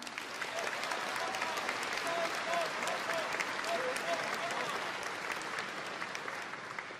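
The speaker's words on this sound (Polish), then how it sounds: "Wielkie brawa, Krzysztof Bosak!" Sustained audience applause fills a political party programme convention hall, dense and steady throughout, with faint voices and cheers mixed into the crowd noise.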